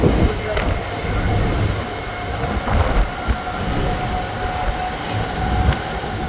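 Train running along a railway line in Mumbai past trackside slums, heard from on board as a continuous loud rumble with rattling wheel noise and occasional clanks, while a person talks over it.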